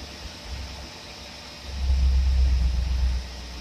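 A Pontiac engine with a faulty Carter AFB carburetor idles with a low rumble, then revs up to a louder, rougher roar for over a second before dropping back, close and alone.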